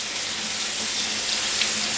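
Tap water runs in a steady, loud rush into a sink over cooked mince being rinsed clear of fat, a constant close hiss with no talk.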